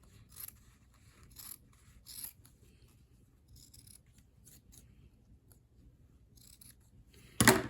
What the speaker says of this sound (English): I'm just going to trim up a little bit. That'll cut the horns off